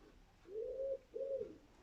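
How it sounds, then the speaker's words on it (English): Pigeon cooing overhead in a garden, two soft, drawn-out hooting coos in quick succession, fairly close and quiet with no talk. "I've got a pigeon walking above me at the moment"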